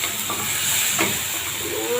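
Garlic and onion fry in a hot pan, a continuous bright hiss and sizzle with a faint stirring scrape partway through.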